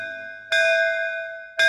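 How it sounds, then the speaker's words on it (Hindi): A bell rings twice in a comedy film scene, two clear resonant strikes about a second apart, each leaving a sustained ringing tone. "3 बार घंटी बजा और निकल"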